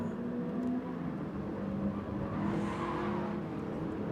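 A race car in a video game on Tsubuka Circuit brakes hard into a corner, its loud engine droning steadily throughout with tyre noise and slight shifts in pitch as it slows and turns in, without any voices.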